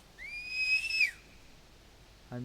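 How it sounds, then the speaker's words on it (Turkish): A bird-call whistle for hunting in theHunter Classic, blown once in a clear, rising-then-held tone of about a second, followed by a faint short sound near the end. "Mesela bak mıstık öttürüyorum."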